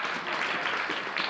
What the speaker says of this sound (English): If we could get like a quick round of applause for our staff